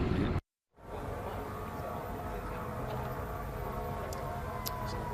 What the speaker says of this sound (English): right now in the background you may be able to hear ambulances and fire engines moving towards the scene